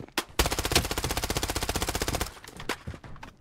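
Sustained automatic fire from a P90 submachine gun with the Blood Crystal skin in the mobile shooter Blood Strike: a loud, rapid burst of evenly spaced shots lasting nearly two seconds, followed by a few scattered single shots.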